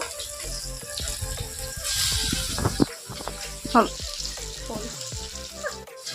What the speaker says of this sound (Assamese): বাহিৰৰ চকাতে পুৰা মাছ ফ্ৰাই কৰি আছোঁ